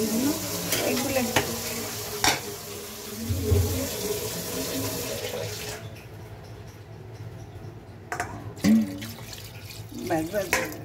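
Water poured into a pan of mutton jhol cooking on a home stove, with splashing, stirring and sizzling sounds that come and go under a person's speech.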